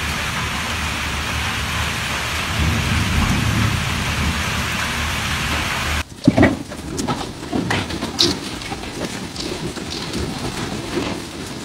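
A hailstorm with strong winds in Texas: a dense, steady roar of pelting ice and gusts for about six seconds, then a cut to sparser, uneven knocks and impacts with rain in the background.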